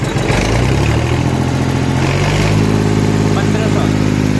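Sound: Powertrac 445 tractor engine starting and running

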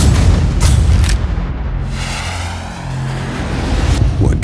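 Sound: mortar fire explosion in video game Sniper: Ghost Warrior 2

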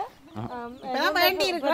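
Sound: chicken rooster clucking

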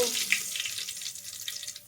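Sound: oil sizzling for tadka tempering, dal cooking

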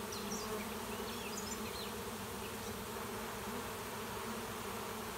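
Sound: honey bee swarm buzzing

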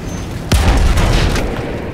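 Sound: explosion in the video game Battlefield 1

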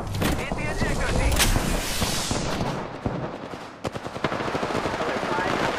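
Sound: gunfire in Apex Legends video game

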